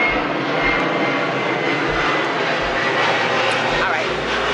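An airplane flies low overhead near an airport, a loud, steady broadband engine roar that fills the whole stretch without fading.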